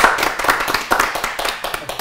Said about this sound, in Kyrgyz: Кол чаап коелу.